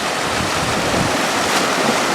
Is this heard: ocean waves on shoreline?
yes